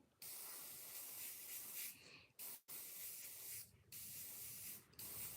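A steady airbrush hiss sprays paint continuously, broken by a few brief pauses before resuming, close and fairly quiet.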